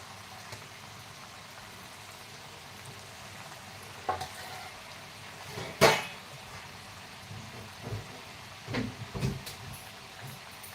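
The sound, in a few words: rice chakli frying in hot oil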